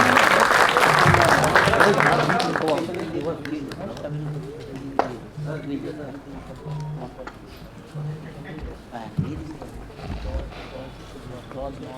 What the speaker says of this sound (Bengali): একবার জোরে হাততালি হয়ে যাক ওনার জন্য